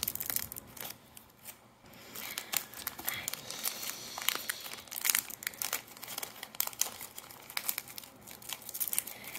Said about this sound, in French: Mon mari est en train de peser des paquets.